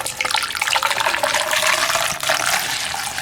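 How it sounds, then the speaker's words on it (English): Vinegar poured by the gallon into the fuel tank of a 1998 Eclipse GST, a steady loud rushing gush of liquid that runs unbroken for the whole stretch. "getting ready to pour this vinegar in here"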